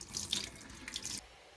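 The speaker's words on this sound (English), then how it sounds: "Be sure to rinse your cloth often" Hot water runs from a kitchen tap while a cloth is rinsed under it, a close steady splashing rush with shifting texture that stops abruptly, leaving quiet.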